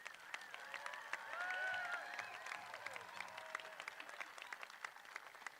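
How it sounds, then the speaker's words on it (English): A crowd at a college commencement ceremony applauds graduates with steady, dense clapping, mixed with a few whoops and cheers, heard from a moderate distance. "another big round of applause for all these graduates"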